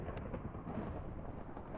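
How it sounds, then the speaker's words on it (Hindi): Rumbling thunder in Minecraft during a Bedwars match, a steady low roll with faint rain-like hiss running through the whole moment, moderately loud and with no talking. "अच्छा ये जो साउंड आ रहा है क्या वो बादल गरजने का?"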